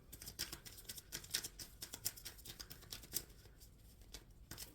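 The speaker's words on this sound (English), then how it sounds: "All right, shuffling for Sagittarius." Soft, rapid riffling and patter of tarot cards being shuffled, steady and close, with a few sharper snaps and no voices.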